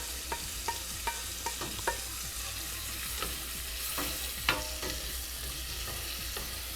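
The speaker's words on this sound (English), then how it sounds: "I'm going to go ahead and add my onions in this pot here" Onions sautéing in melted butter in a pot produce a soft, constant sizzle with a few light taps and scrapes of stirring, quiet and near, with no talking.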